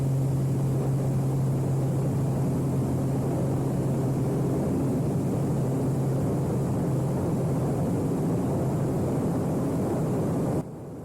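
Pitts Special aerobatic biplane engine roaring at takeoff power, a steady loud propeller drone with a strong low hum and broad wind noise, continuous and close, cutting off abruptly near the end.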